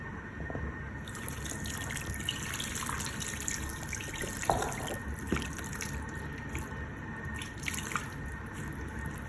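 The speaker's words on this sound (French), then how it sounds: "Donc on verse de l'eau et on laisse le couscous absorber." Water poured onto couscous in a Cookeo multicooker for Moroccan couscous, a steady soft trickling and dripping pour running throughout at low level, with a few small clinks.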